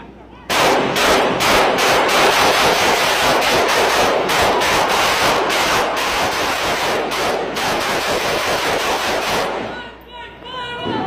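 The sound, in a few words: gunshots fired into the air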